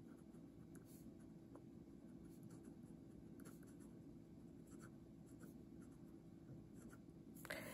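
Nib of a Pilot Custom 823 fountain pen scratching quickly across poor-quality paper, a steady close-up scritching with small stroke bursts and a louder tap near the end, alone without talk.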